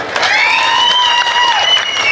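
A stage comedy-drama audience applauds a young boy who keeps rhythm. The clapping is dense and steady throughout, with a sustained, wavering high tone riding over it.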